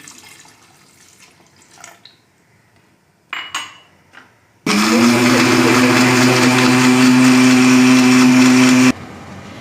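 A mixer grinder whirs loudly and steadily for about four seconds as it grinds soaked peeled almonds with milk, coming after a few light clinks and handling noises.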